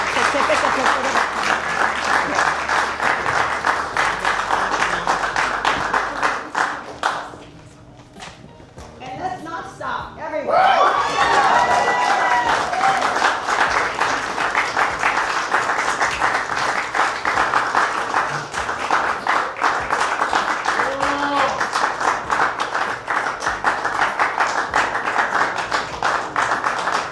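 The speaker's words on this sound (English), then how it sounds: "let's give them a big round of applause" An audience applauds at a Women of the Year awards ceremony, loud sustained clapping that dips briefly midway and then surges again to fill the hall.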